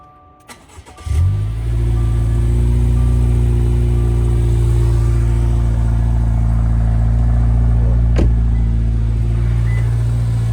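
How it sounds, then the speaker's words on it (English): A Subaru Outback Wilderness with an aftermarket mid-pipe exhaust cranks and starts after a brief starter whir, then settles into a loud, deep, steady idle up close, with a single sharp tick partway through. "The big thing you want to hear is the aftermarket exhaust."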